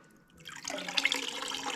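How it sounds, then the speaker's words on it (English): Water dripping and splashing as tanned muskrat hides are squeezed out by hand, starting quiet and building into a close, continuous trickle and patter. "Get these squeezed out."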